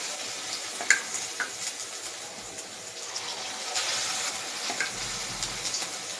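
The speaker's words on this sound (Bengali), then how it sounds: "ভেজে নেব চিকেনগুলো, আগে পকোড়া ভেজে নেব।" Pakoras frying in hot oil, a steady bright sizzle with occasional pops and crackles, close and continuous with no talking.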